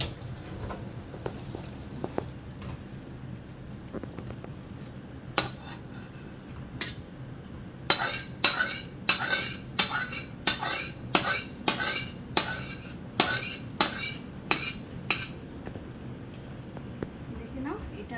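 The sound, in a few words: plating food, clinking cutlery and dishes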